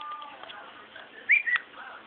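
A pet bird gives soft whistles and two brief sharper chirping calls close by, with faint background noise between them.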